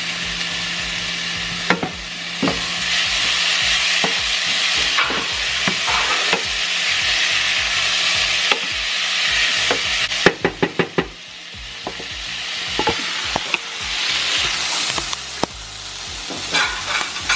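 Kung Pao stir-fry sizzling steadily in a pan, a loud continuous hiss broken by sharp clacks and scrapes of a utensil against the pan, with a burst of quick taps near the middle.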